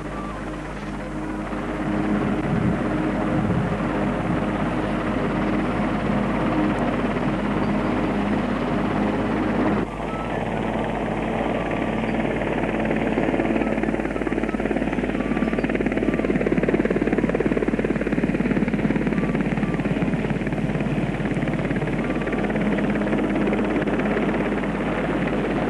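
A helicopter flies in delivering a church spire, its steady rotor thrum and engine drone loud and continuous throughout, with wind buffeting the microphone.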